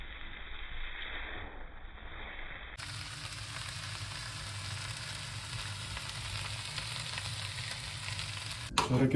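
Shrimp noodles with vegetables, pepper, Espelette chili and coriander stir-fried in a wok give off a steady, close, continuous sizzle with soft stirring scrapes, growing fuller partway through and ending with a brief clatter; no one speaks.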